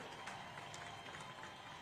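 Audience applause at the Nkumba University graduation ceremony, a faint, distant, continuous wash of many hands clapping in a large gathering.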